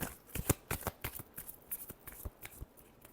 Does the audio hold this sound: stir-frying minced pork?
no